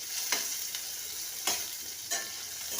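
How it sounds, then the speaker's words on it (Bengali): Paneer pieces frying in a pan, giving a continuous close sizzle broken by three sharp stirring or turning scrapes, with no voices. "এর জন্য পনিরগুলো আমি ফার্স্টেই ভেজে নিচ্ছি"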